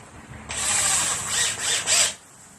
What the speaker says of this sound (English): Go in, mark your hole. Don't drill all the way through.